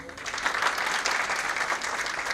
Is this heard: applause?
yes